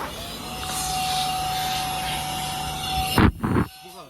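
Steady whooshing roar of a car wash vacuum blower running continuously at close range, ending with a few loud bumps and a burst of noise.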